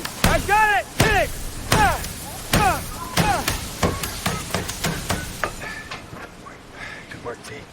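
Hammer striking metal in a wartime Navy shipyard, a series of sharp ringing clanks, loud and widely spaced at first, then quicker and fainter taps, with no talk over them.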